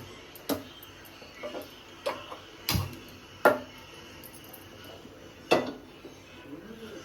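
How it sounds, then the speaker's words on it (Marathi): Someone tries to light a gas stove in a home kitchen before frying prawns and fish. Sharp, separate clicks and taps come at irregular intervals, about seven in all, close and fairly loud. "आपण गॅस पेटून घेऊ"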